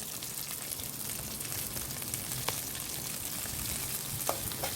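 Green chillies, beans and curry leaves sautéing in oil in a pan give a steady, close sizzling hiss with a few faint scrapes, continuous throughout and with no voices.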